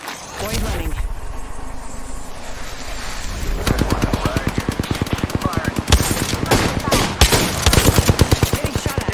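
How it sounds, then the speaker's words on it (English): Gunfire in Apex Legends, bursts of rapid close shots that become a dense, steady rattle in the second half, with a voice talking over them. "Getting shot at."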